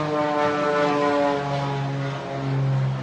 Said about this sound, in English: there's an airplane flying over.